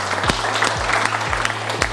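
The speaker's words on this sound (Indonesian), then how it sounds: "tepuk tangan untuk kita semua" Lecture-class audience applauding together, dense continuous clapping from a room of people with a low electrical hum underneath and a few sharper claps standing out.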